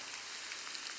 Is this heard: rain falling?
yes